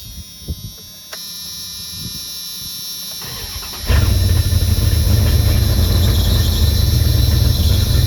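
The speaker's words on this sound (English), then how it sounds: "Belt's gonna squeal for a minute." A 1994 Dodge Ram 5.2 after an intake swap cranks over briefly, then catches and roars to life at close range, a shrill belt squeal riding loudly over the running engine.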